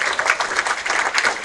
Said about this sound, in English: We'll give one final round of applause to all spellers.